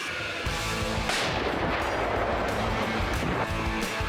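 Heavy artillery booms out in a deep, rolling blast, followed by a long rumbling echo and a second distant thud near the end.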